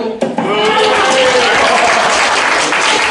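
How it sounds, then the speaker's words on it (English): A burst of loud applause from a debate audience, dense clapping filling the whole moment without pause. "So, we'll do a round of applause for you, Baz."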